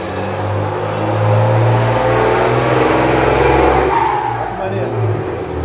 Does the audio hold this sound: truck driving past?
yes